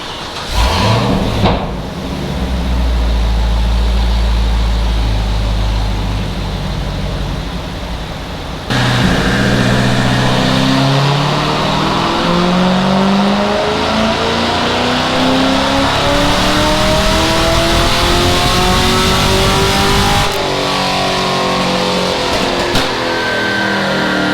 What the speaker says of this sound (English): What better way than to finalize our dyno on the LS3 ND2.